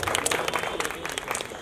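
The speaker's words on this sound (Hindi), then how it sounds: "तो एक बार जोरदार ताली." Seminar audience applauding, a dense burst of close hand claps at a steady rapid patter, fairly loud throughout.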